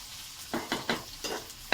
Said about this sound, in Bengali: চিংড়ি মাছ পেঁয়াজটা একটু লাল লাল করে ভাজা হবে।